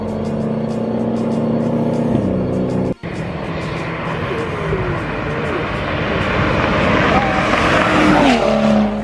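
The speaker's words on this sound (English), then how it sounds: "Fuel cut all the way through." A BMW E90 328i accelerates hard and repeatedly hits fuel cut, a loud, rising engine roar with stuttering limiter bursts, while people talk over it.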